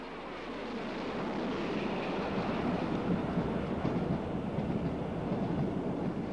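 A Great Western King class steam locomotive hauls the Bristolian express past the lineside in 1957, a steady rolling rumble and rattle of the train that holds loud and even throughout, with no voices.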